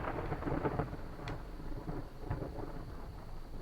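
Thunder rumbles through a rainy video game storm, with a brief crack partway through over a steady wash of rain and low rolling noise, no talking.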